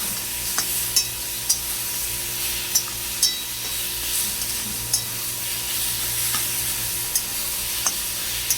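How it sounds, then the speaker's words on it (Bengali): Fish and spices are stirred in a hot pan, with a steady sizzle of frying and frequent sharp scrapes and taps of the spoon at close range, and no talk. "আমরা মাছটাকে এতে দিয়ে দেব। এবারে এটা আমরা পুরো ভালো মতন সবটা মিক্স করব।"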